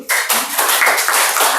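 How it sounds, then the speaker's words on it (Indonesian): A group of participants in an indoor training session bursts into applause, a dense, steady wash of many hands clapping that starts abruptly and stays loud and close for over a second with no talking. "Boleh tepuk tangan dulu?"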